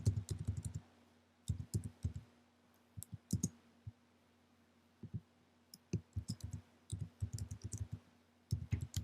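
Computer keyboard keys clicked in quick bursts of typing, crisp and close, separated by short pauses over a steady low background hum, with no voices.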